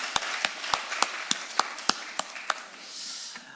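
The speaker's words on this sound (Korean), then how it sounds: "우리 좋으신 하나님께 영광의 박수" Rhythmic unison clapping from a church congregation during a Sunday worship service: about a dozen sharp, evenly spaced claps at a steady beat, close and crisp, then fading into soft room noise.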